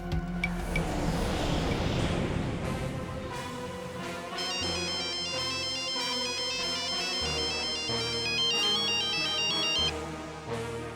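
A phone ringtone plays as a call is placed to an inspector, a looping electronic melody of repeated chiming tones over a steady background, clear and continuous with no talking.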